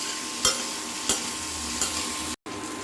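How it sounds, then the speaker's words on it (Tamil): Blanched cauliflower frying in oil in a pan gives a steady, close sizzle, punctuated by three evenly spaced spatula scrapes and a sudden brief dropout near the end; no voices. "இந்த காலிஃப்ளவரும் போட்டு இதில் லேசாக ஒரு 2 நிமிஷத்துக்கு ஃப்ரை பண்ணணும்"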